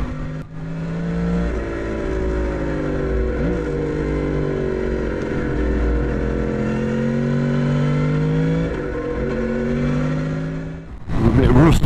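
A Yamaha MT10 motorcycle engine drones steadily while being ridden on a dry road, with a sustained rumbling tone that rises and falls slightly in pitch, plus a burst of wind or rustle at the end.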